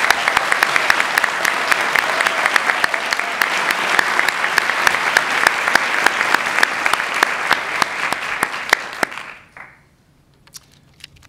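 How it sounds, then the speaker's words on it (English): A large audience claps loudly and steadily for several seconds, with a few sharp individual claps standing out, then the applause quickly fades away. "A big round of applause for Michael."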